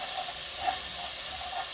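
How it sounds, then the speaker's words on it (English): A steady, bright hiss of sizzling as cold ingredients hit a hot pan while cooking Puerto Rican rice and beans, continuous and close, with no voices. "you put cold and hot together, it's going to be sizzling"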